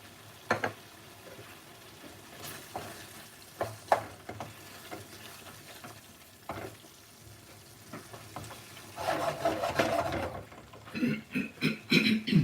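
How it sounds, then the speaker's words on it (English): Fresh green chilies fry in a vindaloo curry, giving a soft steady sizzle with scattered stirring scrapes and clatters, building to louder bubbling and crackling toward the end, heard close. "I'm going to add fresh green chilies, it's completely optional"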